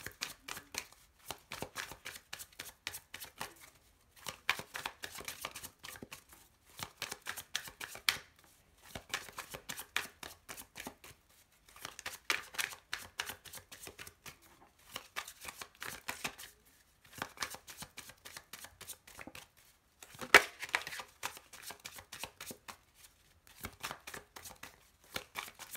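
Tarot cards being shuffled by hand, a long run of quick papery riffles and slides in repeated bursts with brief pauses between, close and moderately quiet, no talking.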